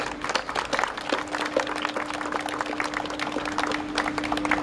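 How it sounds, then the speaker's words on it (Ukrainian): A crowd applauds steadily at a ceremonial opening of a parish church model in Ternopil, with many hands clapping in a dense patter throughout and a faint steady hum underneath. "Будь ласка, оплески."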